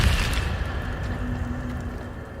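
Incendio fire spell cast in Hogwarts Legacy, a dull whooshing burst of flame that starts loud and settles into a steady rushing roar, fading slightly over a couple of seconds.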